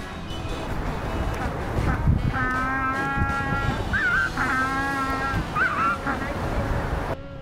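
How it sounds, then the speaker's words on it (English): African jackass penguins at a Cape Town beach let out donkey-like braying calls, several drawn-out honking brays in a row, heard over surf and general crowd noise. "Penguins are also known as jackass penguins. That's because of the sound that they make. It sounds like a donkey."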